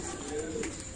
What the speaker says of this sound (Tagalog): Ayun yung dalawang pigeon.